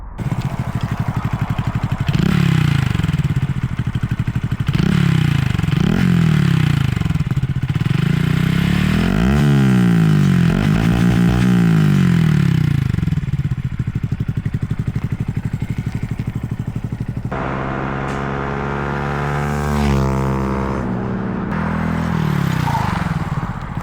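Honda Grom motorcycle fitted with a cheap aftermarket exhaust passes by loudly, its engine note rising and falling with revs as it approaches and moves away, then a sharper pitch shift as it goes past.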